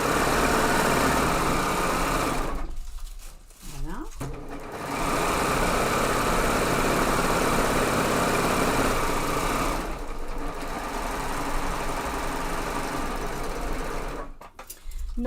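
An overlocker serger stitches along the edge of a plastic pouch, a loud, rapid, close mechanical whirring run that stops briefly twice and resumes, with no talk over it.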